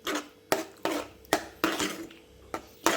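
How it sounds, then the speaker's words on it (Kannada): A spoon scrapes and knocks through paneer masala in a pan, sharp metallic clinks every half second or so, each followed by a short wet scrape, close and fairly loud. "ಒಳ್ಳೆ ಮಿಕ್ಸ್ ಹೊಡಿಬೇಕೀಗ."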